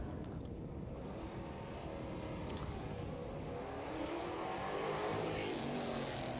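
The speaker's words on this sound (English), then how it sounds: "Sounding absolutely glorious, that 327 cubic inch Chevy small block." Holden HK Monaro with a 327 cubic inch Chevy small block races past at a sprint meeting, a continuous deep engine roar that swells slightly toward the end, heard from a distance.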